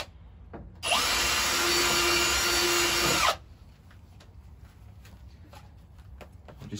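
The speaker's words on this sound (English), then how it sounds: "I'm just going to start by drilling a little pilot hole through there" A power drill whirs in one steady burst of a few seconds, close by, drilling a pilot hole in a pickup truck tub, then stops, leaving faint handling clicks and room noise.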